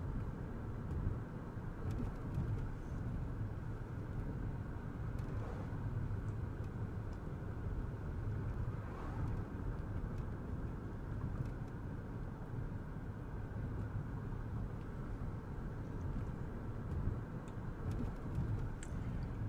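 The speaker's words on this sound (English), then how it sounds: "so all you can hear is a bit of traffic humming and the car's engine." A continuous low engine drone and muffled traffic hum inside a soundproofed car in Vampire the Masquerade: Coteries of New York, steady and enclosed, with no voices.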